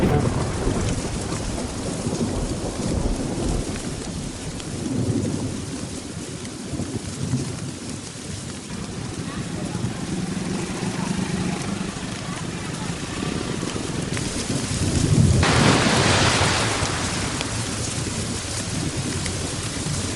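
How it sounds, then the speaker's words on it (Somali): Heavy rain pours steadily in Mogadishu during a thunderstorm, a continuous hiss with low rumbles of thunder rolling underneath and a louder burst of downpour near the end. "muqdisho toddobaadkan waxa ay martigelisay roob aad u xoogan"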